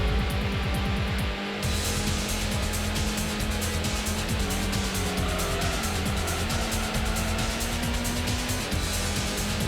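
Toyota Supra RZ racing in the PlayStation Gran Turismo, its engine droning loudly and continuously with shifting pitch, along with other cars and brief tire squeal, close and steady throughout.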